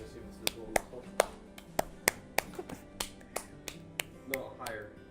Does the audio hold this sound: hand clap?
yes